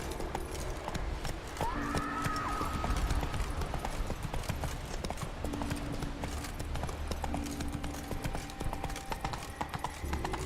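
Roach, a horse in The Witcher 3 game, gallops with rapid, steady clip-clop hoofbeats throughout, joined by a brief snort or whinny early on, with some background game sound.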